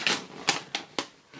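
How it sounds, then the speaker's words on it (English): A gift wrapped in paper is opened carefully, giving four short, crisp crackles and tears spaced irregularly over a quiet background, with no talking. "I want to open it really carefully because I love this wrapping paper."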